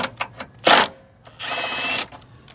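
A power tool working on the alternator of a 2008 Dodge Avenger with a 2.4 engine, heard as two close, loud bursts of whirring drill spin, one short and one longer, between faint clicks and ratchety taps.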